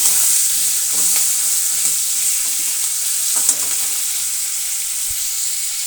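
Prawns fry in oil in a pan with a loud, steady, close sizzle and crackle, broken only by a few soft knocks of a utensil and no voices.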